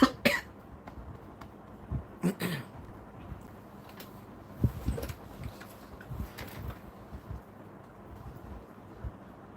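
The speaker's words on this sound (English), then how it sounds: "Are you saying that because I was coughing?" Several short, sharp coughs from a person, scattered in bursts across a quiet background with light wind noise on the microphone.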